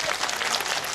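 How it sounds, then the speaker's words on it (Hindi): A brief burst of audience clapping during a religious discourse with a spiritual teacher, a dense, even patter of many hands lasting under a second. "ताली बजाओ"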